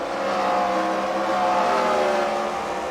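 Race cars in a CWRL first-round heat race at The Freedom Factory drone past together. The engines are loud and close, with a sustained, layered whine that swells briefly and holds steady.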